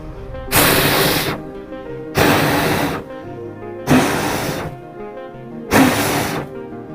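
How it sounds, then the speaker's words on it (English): Four hard, sustained breaths blown at a backpacking stove flame, each a loud broadband whoosh of about a second, spaced roughly two seconds apart, close to the microphone. "I'm gonna actually attempt to blow it out right now, like all the way."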